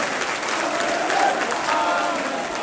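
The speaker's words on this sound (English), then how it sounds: "Amadou Onana's getting clapped off" A football crowd at Goodison Park applauds a departing Everton player after a 1-2 home defeat to Southampton, giving steady, dense clapping that holds evenly throughout with a faint murmur of voices underneath.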